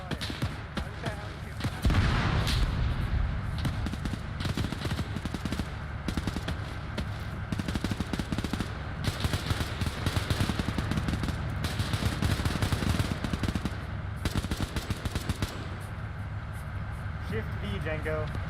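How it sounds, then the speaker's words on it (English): Gunfire in a WW2 video game battle, steady rapid bursts of shots and machine-gun fire running throughout under frequent excited talk from players. "Oh shit, we're taking fire northeast of it."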